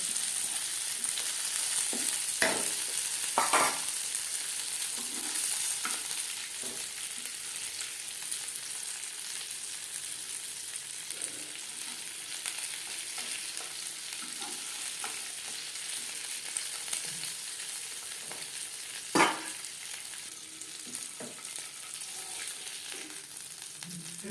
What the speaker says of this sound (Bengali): মাছ ভেজে নেওয়া প্যানে আবারও তেল দিয়েছি